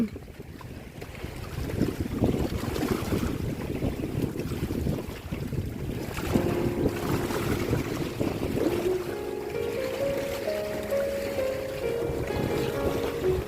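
Strong wind and rain at sea on a fishing trip off a coastal headland, with gusts roaring and buffeting the microphone and a constant rumbling wash of water, steady and loud, while faint voices are heard.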